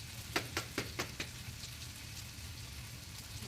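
Garlic frying in a skillet gives a quiet, steady sizzle, with a few sharp crackles and pops near the start that then settle into a soft, even hiss.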